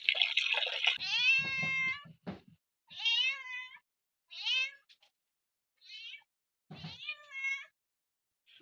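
A cat meows repeatedly and close by, in a string of separate, rising cries split by short silences.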